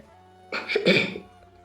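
A woman gives a single deliberate cough, short and throaty with a raspy burst, close up against a faint steady hum, with no talking around it.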